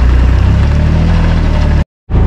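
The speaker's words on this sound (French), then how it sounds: "on va sortir le tonneau avec le Weidemann" A Weidemann loader's engine runs loud and close at a steady mid-revving drone while pulling a slurry tanker on a farm, then cuts out abruptly for a moment before resuming.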